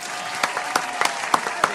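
Brief audience applause with a few sharp, spaced claps standing out over a steady wash of crowd clapping.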